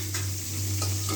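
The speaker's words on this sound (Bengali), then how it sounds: "এখন আমি শুকনো মরিচ রসুন কড়াইতে ভাজা দিব।" Dried chilies and garlic fry in a hot wok, giving a continuous close sizzle with a few brief stirring scrapes over a steady low hum.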